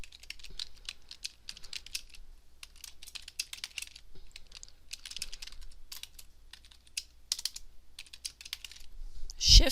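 Text is typed on a computer keyboard in quick bursts of close, crisp key clicks separated by short pauses, ending with a louder thump.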